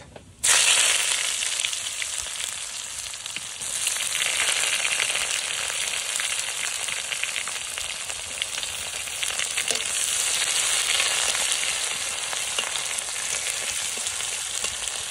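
Bay leaf, cumin and onion frying in oil for a meat curry, a loud sizzle that bursts in suddenly and then holds as an even, close hiss throughout.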